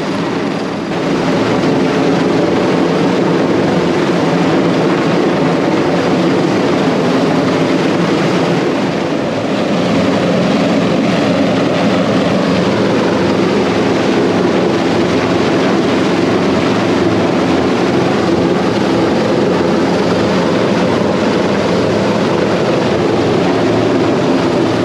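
A rescue helicopter hovers over a cruise ship at sea, its engine and rotors a loud, continuous broadband roar that holds steady throughout with no voices.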